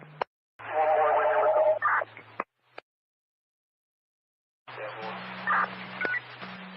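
Telephone dialing tones for a call sound in two bursts of beeps, separated by a gap of silence. A steady low hum sits under the tones.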